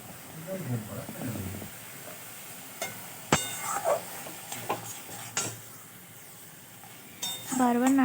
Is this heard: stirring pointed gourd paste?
yes